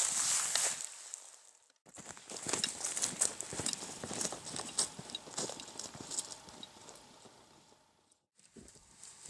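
Pack horses at a backcountry camp, hooves clip-clopping in a steady walking rhythm on hard ground, several animals moving close by, with short pauses of near-silence at the start and end.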